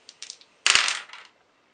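Three dice rattle and tumble across a table during a Memoir '44 board game, with a few light clicks and then one louder clattering roll that quickly settles.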